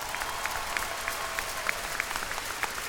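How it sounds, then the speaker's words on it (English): An audience at a university commencement ceremony applauds, a dense patter of many hands clapping steadily at a moderate distance, filling the hall without pause. "Let's give these folks a round of applause."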